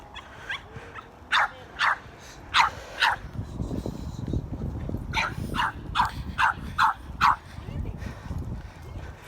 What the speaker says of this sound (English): That's what I call a funny dog.